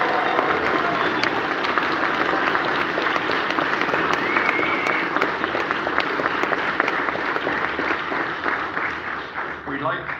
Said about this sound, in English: And then audience applause at the loudest level.